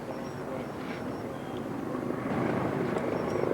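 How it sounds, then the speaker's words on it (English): A Super 2 light aircraft flies past at the Farnborough air show, a steady droning engine hum that grows slightly louder toward the end, heard alone without speech. "there's a first appearance from Britain's newest light aircraft"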